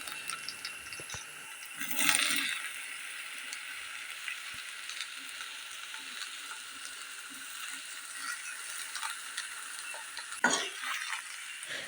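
Soya chunks and onions frying in coconut oil give a faint, steady sizzle, broken by a few scattered spatula scrapes and one louder stir near the end. No one speaks.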